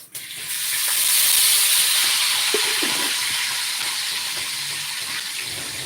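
Food frying in hot oil, salted beforehand to reduce spattering, gives a steady, close hiss of sizzling that swells in the first second and holds fairly evenly throughout, with faint clatter underneath.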